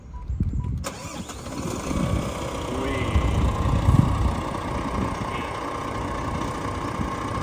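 Volvo D11R diesel bus chassis engine cranking and firing up, then settling into a smooth, steady mid-pitched idle, close and continuous, with a brief exclamation from a person nearby.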